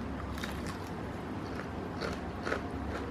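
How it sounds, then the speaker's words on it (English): Crunchy bites into KFC Golden Egg Crunch salted egg fried chicken, with several crisp cracks and chewing close to the microphone against a steady background hum. "So I'm going to have the KFC Golden Egg Crunch."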